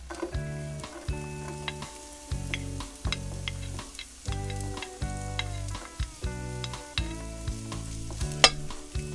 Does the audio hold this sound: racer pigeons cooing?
no